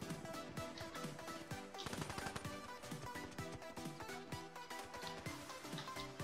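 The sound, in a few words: Laymaker gun firing rapidly in a video game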